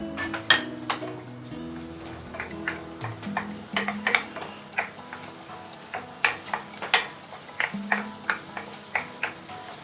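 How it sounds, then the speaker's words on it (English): Garlic and a little chili sauté in about a tablespoon of oil in a pan, a low sizzle under repeated sharp clinks and taps of a utensil stirring against the pan. "Then we're going to saute the garlic and a little bit of chili."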